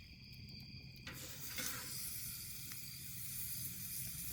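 A large burger cooks over an open wood fire in a fire pit, giving a faint, steady hiss and crackle of sizzling fat with a few soft pops, no talking.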